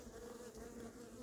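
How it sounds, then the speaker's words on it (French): Hornet buzzing near a beehive tent at an apiary, a continuous faint drone lasting about a second, with no talk. "on avait un frelon qui chassait magnifiquement"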